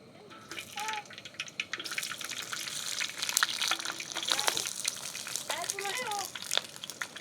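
Onions and peppers frying in a pan on a portable camping stove outdoors, a constant crackling sizzle with bursts of sputter, close by, while people talk and birds chirp in the background.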